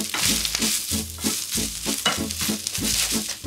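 Onions fry in a pan, sizzling steadily with repeated stirring scrapes in a rhythmic pattern, close and fairly loud with no talking.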